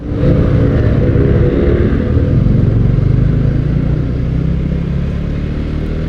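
A Honda CBR150R with an inline-four engine is held at steady revs, producing a loud, close, continuous engine roar with a rough rumbling texture.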